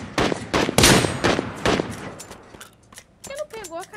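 Rapid gunfire bursts from the Knives Out mobile shooter game, several loud sharp shots in quick succession, then quieter game sounds and talk toward the end.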